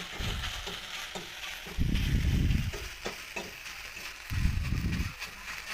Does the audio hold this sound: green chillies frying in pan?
yes